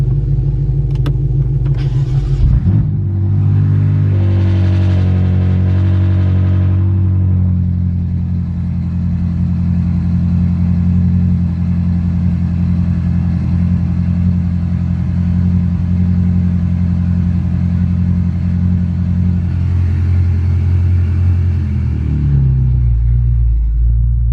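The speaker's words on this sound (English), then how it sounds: "Then start the car up." A 2014 BMW M5 Competition's S63TU engine cranks and catches, then settles into a loud, steady idle rumble that continues for a long stretch before revving slightly at the end.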